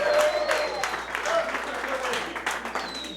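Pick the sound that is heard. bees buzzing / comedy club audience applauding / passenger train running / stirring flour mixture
comedy club audience applauding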